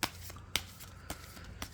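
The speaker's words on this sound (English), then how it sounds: "And that's enough shuffling, I think." Tarot cards are shuffled by hand in a series of crisp riffling bursts, four sharp flutters spaced roughly half a second apart, close and fairly quiet.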